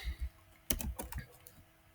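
Short burst of quick keystrokes on a computer keyboard while typing formulae, a cluster of close, crisp clicks with a few scattered taps, fairly quiet and without speech.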